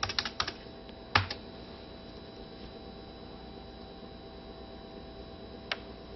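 Computer keystrokes entering a command: a quick burst of clicks at the start, one sharper tap near the one-second mark and a lone key press later, all fairly close over a steady low electrical hum.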